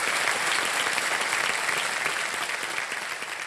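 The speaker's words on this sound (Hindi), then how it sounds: "बहुत बहुत तालियां बज जाएं इनके लिए।" A studio audience at the Indian quiz show Kaun Banega Crorepati breaks into loud, sustained applause, a dense continuous clapping that holds steady throughout with no break.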